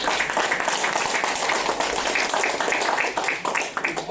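An audience at an HR forum conference claps together, a dense, steady wash of hand claps filling the hall at moderate loudness, with no clear voice over it.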